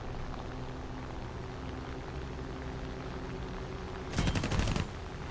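Rapid gunfire from an aircraft's guns in a combat flight video game, a short loud burst near the end over a steady engine drone.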